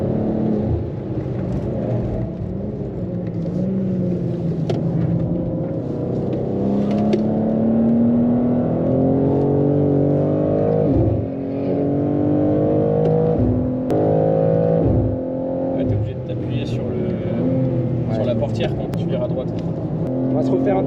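A BMW M2 is driven hard around a race circuit, its engine rising and falling through repeated upshifts in a loud in-car drone, while occupants talk over the noise.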